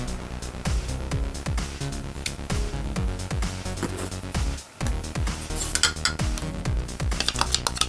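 A utensil stirs a food coloring mixture of blue and green drops in a container, giving rapid rhythmic clinks and scrapes against the sides, close and continuous with one brief pause midway, no voices.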